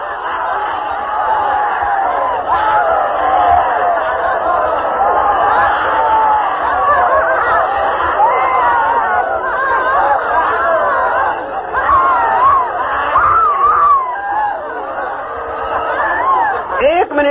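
A large group in cathartic meditation shouts, screams, cries and laughs all at once, making a loud, unbroken wash of overlapping voices that runs the whole time.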